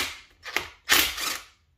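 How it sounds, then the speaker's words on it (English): A pneumatic impact gun with a 17mm socket removes a bolt from a Yamaha FZ6 motorcycle, two short rattling bursts close to the mic, the second longer, then quiet. "17mm socket, impact gun."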